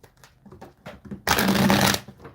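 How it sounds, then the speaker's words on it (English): A deck of tarot cards is riffled and shuffled up close, with light tapping and handling before a dense, crisp burst of flicking cards lasting under a second, no voice. "Just shuffling the cards."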